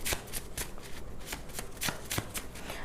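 Handwritten tarot cards are shuffled close up in a rapid series of crisp riffling bursts, steady and continuous, with no voice present.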